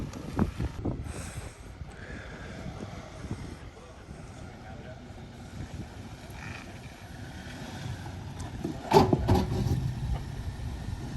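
An off-road vehicle crawls slowly down the steep Diablo Drop Off trail, its low engine rumble steady under wind buffeting and nearby voices talking.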